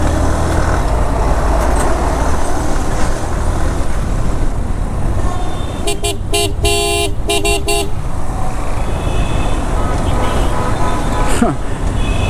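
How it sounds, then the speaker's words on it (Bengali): Heavy, dense roadway traffic in a Dhaka jam on the route from Zirabo to Gulshan rumbles loudly and continuously. A burst of repeated horn honks rings out in the middle, and another horn sounds briefly near the end. "রাস্তা অনেক গাড়ি, অনেক।"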